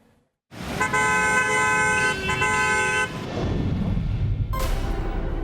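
Car horns blare in a long traffic jam at the Delhi-Noida border during a lockdown, one loud sustained honk held for a few seconds, then rumbling engines and road noise, and a second shorter honk near the end.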